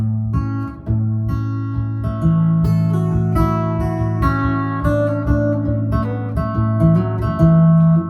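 An acoustic guitar plays the outro lick of a song, a steady run of plucked notes and double plucks over ringing low strings, close and bright with no voices.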